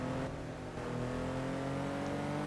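Stuttering Porsche engine from the Need for Speed Porsche Unleashed racing game, a steady harmonic drone with wavering pitch as it shifts gears in the Monte Carlo stage, loud and continuous with no talk.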